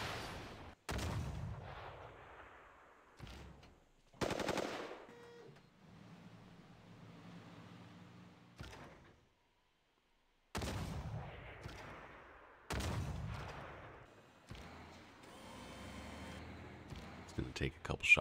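Booming gunfire and artillery blasts in a Civilization 6 war game, a handful of separate heavy impacts with quiet gaps between them, plus a voice speaking.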